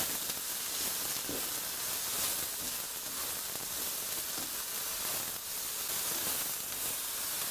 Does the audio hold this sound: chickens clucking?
no